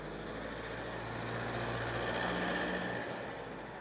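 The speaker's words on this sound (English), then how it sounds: "Another car coming." A car passes on a narrow road in the French village of La Roque-sur-Cèze, its engine a steady, fairly loud rumble with road noise that holds for several seconds and then eases slightly.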